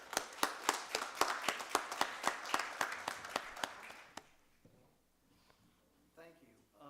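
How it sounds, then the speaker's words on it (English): A group applauds a Chief Superior Court Judge at a county Board of Commissioners meeting, with sharp, evenly spaced claps for about four seconds before they stop and faint voices murmur in a quiet room. "Give him a round of applause."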